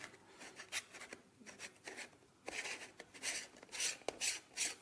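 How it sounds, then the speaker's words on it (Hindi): A Meco square filter kit base ring being screwed onto a camera lens: soft, close scraping and rubbing of threaded parts in short uneven twists, quiet at first and growing a little stronger, with no talking. "इसको मैं इसके ऊपर स्क्रू ऑन कर दूंगा."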